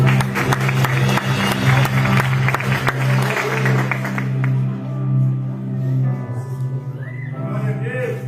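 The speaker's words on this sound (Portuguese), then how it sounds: "Aplauda Jesus, irmão." A church congregation claps together over sustained musical tones, loud at first, then thinning and fading after a few seconds while the music carries on.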